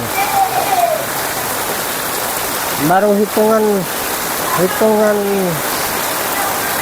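Heavy rain falls over a flooding village in Lambheu, a dense steady roar of drops nearby, with someone speaking in short bursts over the downpour.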